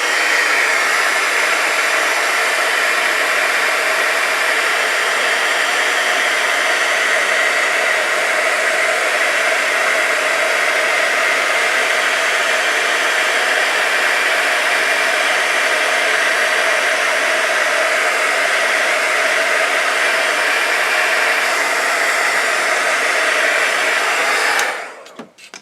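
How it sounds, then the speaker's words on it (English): A heat tool blows continuously for about 25 seconds while melting glitter embossing powder on a card. The loud, steady, close whoosh resembles a hair dryer and cuts off abruptly at the end. "And now I'm going to heat it quick and show you the glittery results."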